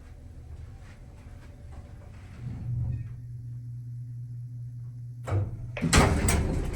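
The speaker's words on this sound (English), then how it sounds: "I'm gonna shut the door." A vintage Otis black-button elevator door slides shut with a low steady hum, then a clear thud as it closes, followed by a louder rumble as the car begins to move.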